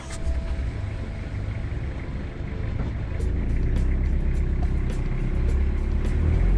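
A minibus drives down a rough, rocky track, giving a steady low engine rumble that grows slightly louder, with intermittent rattles and jolts over the bumps and no voices.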